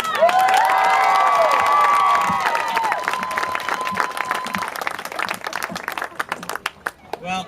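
Crowd applause and cheering for a speaker at a Relay for Life opening ceremony, a burst of clapping with whoops and shouts that fades out over several seconds, a few voices heard through it.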